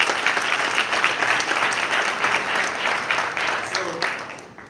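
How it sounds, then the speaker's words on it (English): An audience at a Houston press conference for the Pepsi Battle of the Bands applauds, producing dense, loud, sustained clapping from a sizable crowd that fades out near the end. "So can we give them all a round of applause?"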